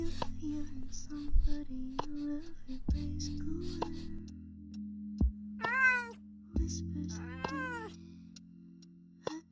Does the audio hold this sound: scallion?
no